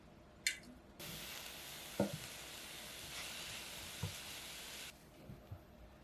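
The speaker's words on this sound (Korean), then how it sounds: "팬에 넣고 오일을 두른 다음 양파가 부드러워지게 볶으세요." Sliced onion sautéing in oil in a pan, a steady close sizzle running for several seconds with a few sharp clinks and stirring knocks, then dropping off quieter near the end.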